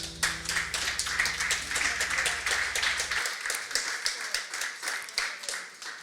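Church congregation claps in a brisk, steady rhythm, many hands together, with a low sustained musical tone beneath the first half before the clapping continues alone.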